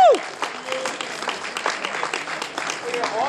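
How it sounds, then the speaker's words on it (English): Applause at a high school basketball banquet, a short burst of scattered clapping from the room that starts strong and thins, with a voice talking over it. "You can give a little applause to that."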